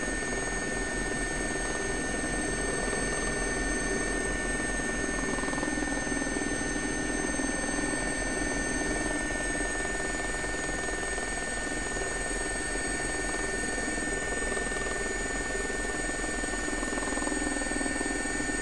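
An SA342 Gazelle helicopter in X-Plane 11 drones with a constant turbine whine and rotor thrum, loud and unbroken throughout, with no voices over it.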